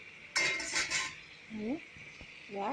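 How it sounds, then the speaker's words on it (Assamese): Fish curry stirred in a pot: a burst of close metal scraping and clinking from the utensil against the pot, then quieter simmering with brief faint voice fragments. "আৰু ইয়াক মই লৰাই দিছোঁ"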